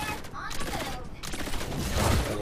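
Rapid bursts of pistol gunfire in a mobile battle game, dense and continuous, with speech faintly mixed underneath.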